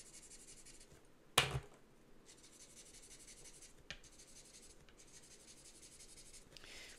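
Ohuhu alcohol markers rub and scratch across paper in long, soft strokes while colouring and blending, with one sharper tap of a marker and faint room noise, and no one talking.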